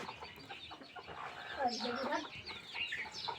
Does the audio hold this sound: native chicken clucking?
yes